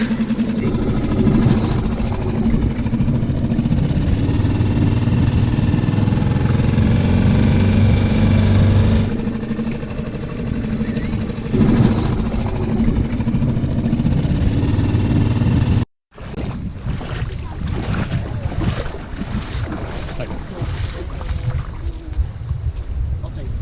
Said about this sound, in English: Going for a little dinghy ride to the beach.